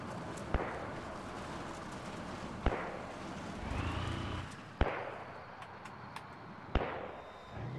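Mortar rounds in the video game Arma 3 land as four sharp, booming impacts spaced about two seconds apart. Each one rings out over a low background rumble, and no one speaks.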